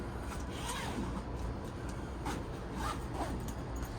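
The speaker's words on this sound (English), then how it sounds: "For the zippers to be watertight, they need to all be in the utmost top position." A zipper on a 2016 Coachmen Clipper 806LS popup camper is pulled along a canvas and mesh panel, giving a soft, continuous rasping scratch at close range with no voices over it.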